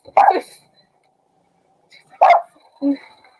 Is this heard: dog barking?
yes